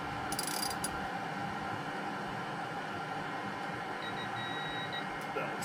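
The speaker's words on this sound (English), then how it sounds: "I need to torque all the injectors to 10 foot-pounds." A torque wrench tightening the fuel injectors on a DT466E diesel engine during a rebuild, giving a few quick ratcheting clicks against a steady background hiss, with a faint electronic beep later on.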